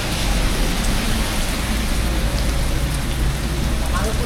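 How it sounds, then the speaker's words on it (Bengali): Heavy rain pours on a road during a motorbike tour from Dhaka to Sreemangal, a dense, steady wash of hiss and low rumble held loud and close for the whole stretch, with no talk. "এমন বৃষ্টি আসছে এখানে"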